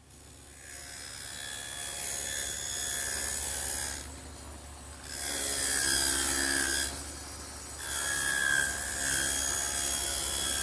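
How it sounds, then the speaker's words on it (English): A table saw cutting a dado in oak for a workbench gives three separate cutting passes, each a rough, rising grind that holds for a couple of seconds before dropping back to a low motor hum. "I'll do that over on the table saw"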